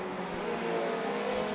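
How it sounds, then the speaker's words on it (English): A Formula Junior race car at a vintage race at VIR sounds like a steady, fairly loud engine drone with a sustained mid-range tone, holding without a break from start to finish. "Look at this pass right here on the Formula Junior coming into one."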